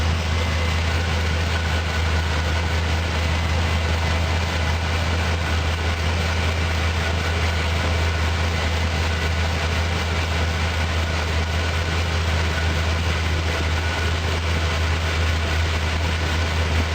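A 1978 Jeep CJ7 engine idles and warms up, a loud, steady low rumble that runs unbroken and unchanged for the whole stretch, with no voices.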